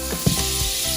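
Unsalted butter melting into extra virgin olive oil in a hot pan, a close steady sizzle with small crackles and a light stirring scrape.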